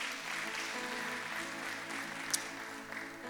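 A church congregation applauds the choir after worship, a steady wash of clapping from many hands at moderate distance, fairly soft and even, with one louder clap near the end.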